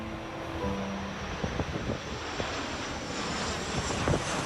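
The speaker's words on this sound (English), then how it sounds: "Mark and his fire crew work to keep the fire north of the camp road and receive help from the Federal Aviation Assets" A firefighting aircraft passes over the 2018 Spring Creek wildfire, a steady, fairly distant engine and propeller drone mixed with wind and a few faint knocks.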